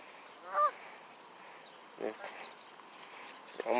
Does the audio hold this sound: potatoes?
no